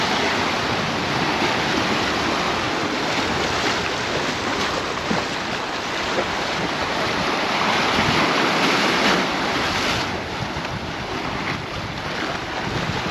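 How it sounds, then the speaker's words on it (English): Choppy Mediterranean sea waves at San Agustin, Mallorca, wash and splash continuously against the shore under steady, gusty wind noise, close and loud throughout. "sea is a little bit choppy today, yes. It's been splashing up on here."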